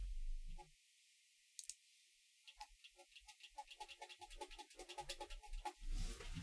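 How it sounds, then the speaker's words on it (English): Computer keyboard keys clicking close up, a sparse few taps at first, then a quick run of rapid, even clicks, quiet and isolated with no talking. "I just want to make sure where is the noise from the keyboard"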